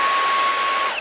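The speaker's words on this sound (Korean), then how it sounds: "청소기 사용하실 때 청소를 틀면은 이렇게 모터 쪽에서 바람이 나와요." Steady rushing air vents from the motor of a running Samsung Bespoke Jet cordless vacuum, a broad close hiss with a faint high whine, continuous throughout.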